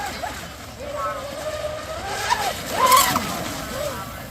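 A TFL Cheetah RC boat runs on a lake at about 30% throttle, its motor whining in a wavering, rising and falling pitch as it passes at moderate distance, with a person talking over it.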